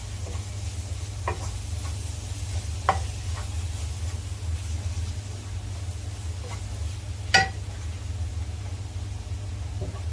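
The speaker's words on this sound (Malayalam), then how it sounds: "എല്ലാം കൂടി ഒന്ന് ഇളക്കി യോജിപ്പിച്ചു കൊടുക്കുകയാണ്" Venison roast, Kerala style, stirred in a pan with garam masala and black pepper powder: a soft, steady sizzle over a low hum, with a few scattered spoon clicks and one sharper knock near the end.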